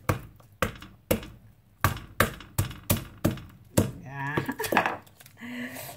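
A hammer strikes mud crab shells in a kitchen, about eight sharp, evenly spaced cracking knocks, close and loud, followed by scraping and clattering of utensils.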